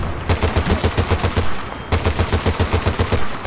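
Rapid bursts of gunfire in the video game Battlefield: Bad Company 2, heavy and punchy, repeating in a fast rhythm with a brief break midway, loud and close.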